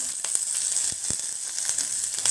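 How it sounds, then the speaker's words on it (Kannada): Curry leaves fry in hot oil for a Tulu jackfruit pickle, giving a steady close sizzle with brief sharp crackles and pops scattered throughout. "ಪೂರ ಇಂಚನೆ ಫ್ರೈ ಮಾಡ್ತಾರೆ ನಾನು ಇತ್ತೆ ಈ ಬೇಸೊಪ್ಪನ್ನ ಐಕೆ ಪಾಡ್ರೆ"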